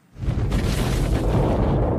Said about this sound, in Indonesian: Ledakan dahsyat pun terjadi.